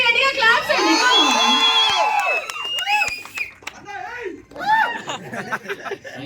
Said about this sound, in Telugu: సో మళ్ళీ ఒకసారి గట్టిగా క్లాప్స్ అండి